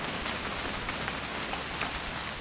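Steady rain falls in the video game What Remains of Edith Finch, an even hiss of drops across a surface with no pauses and no voices.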